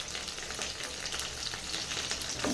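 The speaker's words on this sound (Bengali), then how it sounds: "এবার আমাদের তেল গরম হয়ে গেছে, একটা একটা করে ভালো করে সুন্দর করে আমরা এই জিনিসটাকে ভেজে নেব।" Chili chicken pieces deep-frying in hot oil, a dense, even crackling sizzle heard close and alone throughout.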